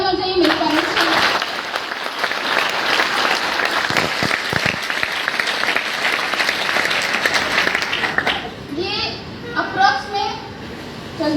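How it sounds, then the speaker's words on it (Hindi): Loud, sustained audience applause at a success seminar in Gorakhpur, dense clapping filling most of the stretch before thinning out under a woman's speech near the end. "एक बार जोरदार तालियां चाहिए मेरे पास"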